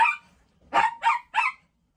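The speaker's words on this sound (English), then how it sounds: "See, now my dog bugging out." A dog close by gives one sharp bark, then, after a short pause, three quick barks in a row, loud with nothing else sounding.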